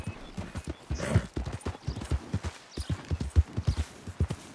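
A horse gallops in the video game Red Dead Redemption II, its hooves clip-clopping in a quick, steady rhythm, close and fairly loud, with no talk over it.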